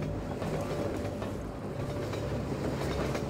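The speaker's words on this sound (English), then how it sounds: "If you jump on that train, you go forward." A moving train in the video game Half-Life 2 (MMod), a steady rumbling rattle of rail cars with faint rhythmic wheel clatter, moderately loud and continuous, with no voices.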